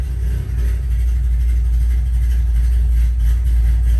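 A 2005-2010 Ford Mustang GT V8 fitted with Ford hot rod cams idles close by, a loud, continuous deep rumble with a slightly uneven pulse, heard alone without voices.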